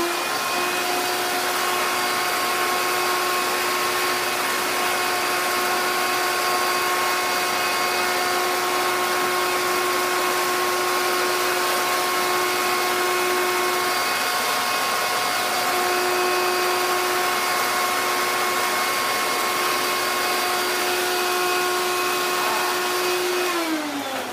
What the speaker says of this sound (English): I want to show you how a vacuum dusts the table.